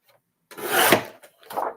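Scissors cut through pink satin in a short close rasping snip, then a second quieter cut, with no talk.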